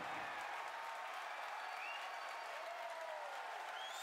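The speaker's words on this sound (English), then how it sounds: "if you can hear me over the cheering." Crowd cheering and applauding after side booster separation during a SpaceX Falcon Heavy launch carrying Arabsat-6A, a dense, steady wash of clapping and cheers filling the room without a break.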